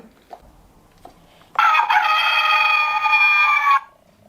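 A rooster in a Noah's Ark toy set crows once, a loud, drawn-out cock-a-doodle-doo lasting about two seconds, with faint clucks and knocks before it.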